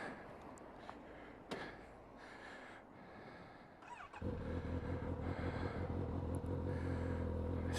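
A Kawasaki Z900RS motorcycle engine starts after a few quiet clicks and settles into a loud, steady idling burble close by.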